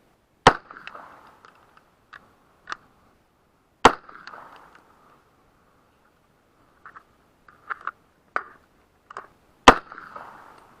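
Unsuppressed shots from a Warthog 7.62 rifle, sharp loud cracks spaced seconds apart with short ringing decay, plus a few fainter pops and clicks between them in an otherwise quiet outdoor setting.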